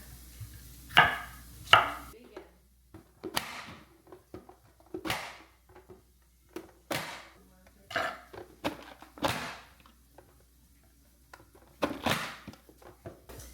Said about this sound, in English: I'm just gonna go with the peppers that we chopped up